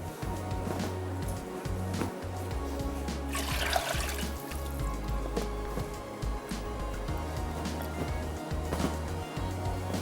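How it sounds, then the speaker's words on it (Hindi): Raw chicken is lifted out of a bowl of water while making a marinade, giving continuous trickling and dribbling water with light splashes under steady low background noise throughout. "अब इस चिकन को जो हमने पानी से निकाल लेना है।"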